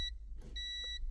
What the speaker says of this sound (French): faut tester avec le multimètre, avec la fonction de bip